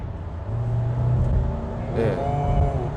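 A 2020 Kia Sorento Hybrid accelerates in sport mode, its engine droning steadily with a rising tone partway through, heard from inside the cabin under a low hum.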